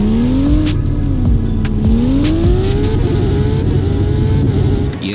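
Apollo IE supercar engine revving in a video game: a loud, continuous engine roar that rises and falls in pitch, with tire squeal and scattered clicks, and no speech.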